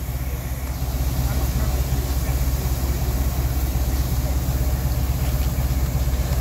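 Six-wheeled steam tank engine idling at Haworth station, a steady close rumble with constant low hiss and faint rhythmic pulsing, sustained throughout without talk.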